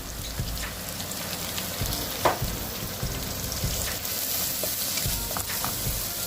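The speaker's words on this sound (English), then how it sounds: "You want to get the onions really cooked." Onions fry in a pan for a restaurant-style chicken rogan josh curry, giving a steady, close crackling sizzle with occasional small pops throughout.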